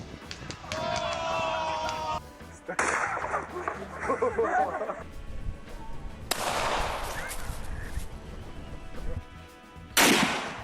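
Gunshots from a gun fail compilation sound as several sharp loud bursts separated by gaps, mixed with chaotic noise and voices talking and reacting.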